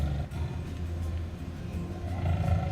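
A tiger's deep, rumbling roar rolls on as a continuous low growl across the whole stretch, fairly close and unaccompanied by speech.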